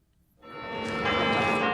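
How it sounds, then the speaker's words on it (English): A church bell tolls in France, a single ringing strike that swells from near silence into a sustained, resonant tone, with no voices over it. "Church bells tolling across France today, carrying a powerful message, calling together the faithful"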